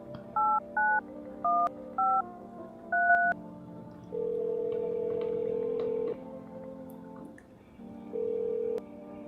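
Phone dialing tones in a video game: several short beeping keypad tones in quick succession, then a long steady tone, a pause and another held tone, clear and close with no voices.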